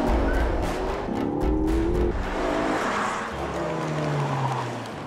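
Racing cars roar past close together at a race circuit, engines loud and sustained with pitch sweeps as one car tails another, a continuous near pass with no talk.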